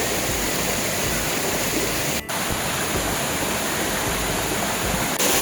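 Ghonsari waterfall in the Konkan hills pours in a dense, constant roar of rushing water, loud and unbroken apart from a brief dip near the middle.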